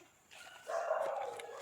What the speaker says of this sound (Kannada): ನಾಯಿ ಬೊಗಳ್ತಾ ಉಂಟು.